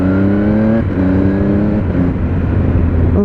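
Triumph Speed Triple RS motorcycle from 2018, its engine note climbing and dropping through gear changes with a quickshifter, loud and close, continuous with steady harmonic drone and no talk.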